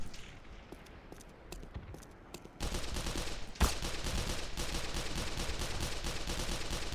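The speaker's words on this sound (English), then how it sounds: "this guy is literally shooting into his cover" Enemy gunfire in the Black Mesa shooter game, rapid repeated shots that start light and distant and then turn into a dense, loud barrage with one sharp heavy crack partway through.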